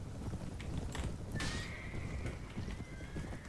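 Horses in the medieval video game Anno Domini 1257 charging into battle, with steady hoofbeats, snorting and a sharp whinny cutting through the dense clatter of the fight.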